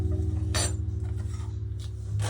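A metal spoon clinks a few times against a bowl while mixing hair colour, bright sharp taps over a steady low hum.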